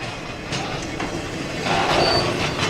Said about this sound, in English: We'll have a train coming back north this afternoon, and well, if so, you'll be watching that right about now.